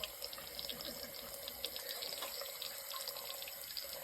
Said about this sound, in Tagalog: You wanna play with the water.